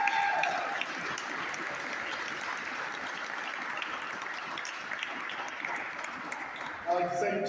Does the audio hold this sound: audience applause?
yes